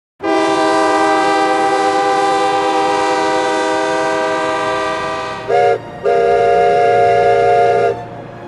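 Train horn at a railway station, a loud, sustained harmonic blast lasting several seconds, then a brief break and a second shorter blast, with no talking.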